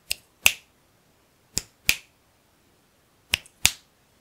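Six crisp finger snaps recorded on a Neewer microphone ring out in pairs, sharp and close, with quiet gaps between each pair.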